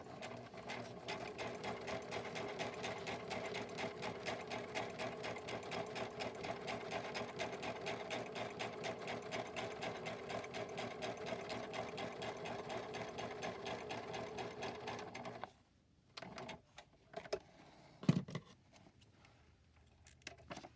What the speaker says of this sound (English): Some crooked sewing going on there.